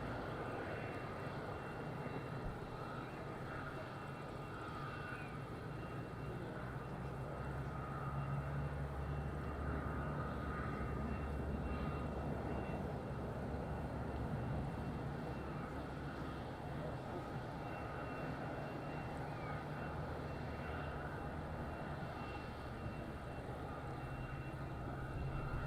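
A Jet2 airliner at Madeira Island Airport makes a steady engine roar that holds for the whole stretch, heard from a distance with a continuous broadband rumble and no clear breaks.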